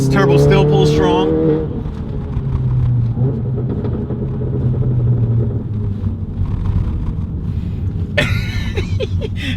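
A 2017 VW MK7 GTI with a turbocharged engine pulls hard under acceleration, a loud steady engine rumble rising through the run with a brief surge near the end, heard from inside the car.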